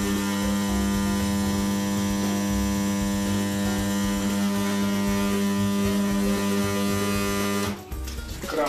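An Aquarobot M domestic water supply station pump with a pressure switch runs with a steady, loud electric motor hum and dense harmonics. The hum falters and changes near the end as the pump cuts out.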